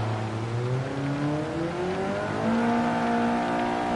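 A race car in a racing video game spins its wheels on a wet track, its engine whining loud and steady with rising and sliding pitch as the tires lose grip.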